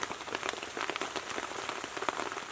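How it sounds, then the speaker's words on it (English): Rain falls on a bushcraft camp, a steady close patter of drops with sharper individual splats scattered through the hiss, and no voices. "The rain started to slow down"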